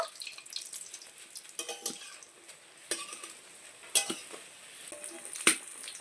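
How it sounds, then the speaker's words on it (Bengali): Coconut chops frying in oil, with soft, intermittent sizzling and scattered clinks and scraping as the pieces are stirred and lifted, close and fairly quiet. "এই চপগুলো ভেজে নেওয়া হয়ে গেছে এবার এগুলোকে তুলে নেব"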